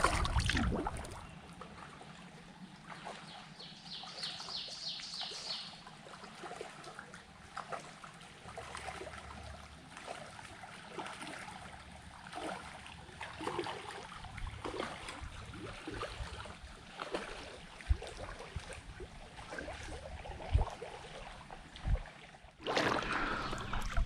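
Scenic paddling upstream toward Hemlock Gorge on the Gunpowder River, with soft water lapping and paddle strokes against steady outdoor ambience, a brief high chirping near the start and a clunk near the end.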